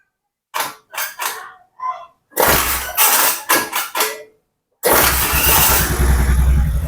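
A Honda Vario 110 FI motorcycle left unstarted for several days, with a worn throttle body, cranks in several short, loud bursts separated by pauses before the engine catches and runs with a steady close-up idle.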